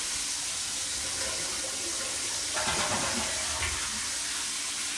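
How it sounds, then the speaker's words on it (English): A toilet is flushed during a move-in bathroom inspection, a steady broadband rush of running water throughout, with a louder surge of gushing flow partway through, heard close and alone without talk. "Let's just flush it."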